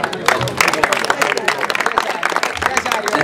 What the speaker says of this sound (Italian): Applausi per...